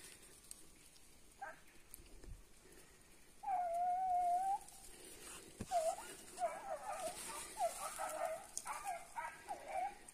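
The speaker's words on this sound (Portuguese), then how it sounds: "O cachorrado tá montado." A pack of hunting dogs on a paca hunt, giving whimpering, whining cries and sharp short yelps in an uneven sequence, some nearer and some farther off, over a faint outdoor background.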